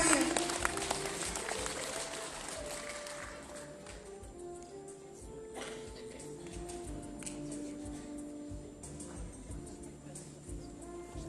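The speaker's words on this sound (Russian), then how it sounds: "Встречаем бурными аплодисментами." An audience at a Sagaalgan (White Month) stage concert applauds a Buryat pop singer. The clapping is loudest at the start and thins out over several seconds as tonal music notes rise beneath it and carry on.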